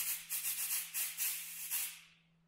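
A cabasa, the beaded South American shaker, gives a soft, rapid series of scraping rattles. The rattles sound like a dry hiss in short pulses, quiet and close, and die off after about two seconds.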